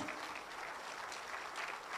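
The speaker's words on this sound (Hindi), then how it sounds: "जोरदार तालियों से श्री आर के शेट्टी साहब का स्वागत करेंगे।" An audience at an insurance agents' association event applauds continuously to welcome a speaker, a dense, uniform roar of many clapping hands heard at fairly low level throughout.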